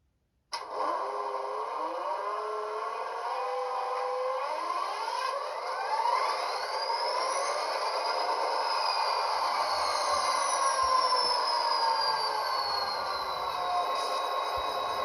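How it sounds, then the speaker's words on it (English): An EMD diesel engine startup played through a sound decoder on an Athearn RTR SP SD40R model locomotive sits on a test track, with rising and falling tonal sweeps and a steady mechanical drone held at constant loudness throughout. "The classic EMD startup sound."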